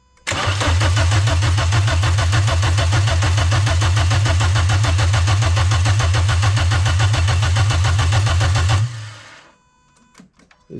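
A Renault F4R engine, built with a rebuilt gearbox from another car, cranks loudly and rhythmically for about nine seconds close by, then stops without catching, leaving a few faint clicks.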